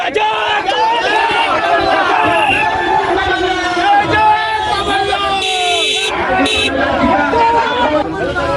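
A loud crowd of Congress workers roars and chants at a party rally welcoming Kamal Nath, a dense, continuous wall of raised voices with no let-up.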